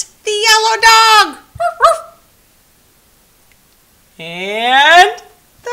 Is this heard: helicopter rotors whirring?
no